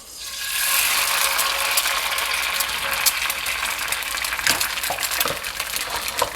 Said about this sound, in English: we're gonna go ahead and crack our egg and get it onto our hot pan